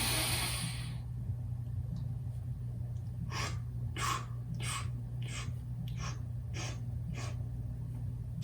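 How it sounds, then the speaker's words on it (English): Quick mouth sips of extra air drawn in during a breath-hold exercise, about eight short airy intakes in an irregular rhythm, close and clear over a low steady hum, with no talking. "I'm taking additional sips of air through the mouth"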